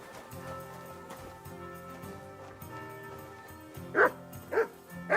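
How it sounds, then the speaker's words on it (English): A dog in Kingdom Come: Deliverance II barks three times near the end, loud and close, over a steady backdrop of medieval game music. "bark."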